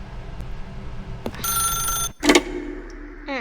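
A telephone rings in the video game The Stanley Parable, a steady metallic bell tone sounding for about half a second before a sharp thump and some rustling cut it off.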